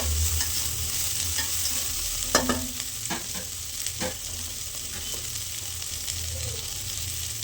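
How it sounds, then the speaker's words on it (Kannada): Pepper chicken with green chillies and onion sizzles steadily in a pan, a constant frying hiss broken by a few sharp scrapes and clicks of a spoon stirring, close and alone without talk. "ಇದು ಫ್ರೈ ಆಗಬೇಕು, ಇವಾಗ ಚೆನ್ನಾಗಿ ಫ್ರೈ ಆಗಬೇಕು."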